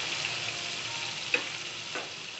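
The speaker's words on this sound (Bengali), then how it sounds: "সেগুলোকে আমি এখন হলুদ আর লবণ দিয়ে ফ্রাই করে নিতেছি" Large potato chunks frying with turmeric and salt, a quiet, steady sizzle with a couple of faint pops.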